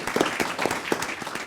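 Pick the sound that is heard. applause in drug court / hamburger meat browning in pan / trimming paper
applause in drug court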